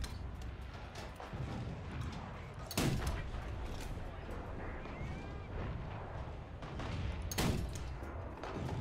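Cannon shots from a British Grant 1 tank with two guns in the War Thunder video game: two heavy booming blasts a few seconds apart, each with a rumbling tail, over a constant low engine drone.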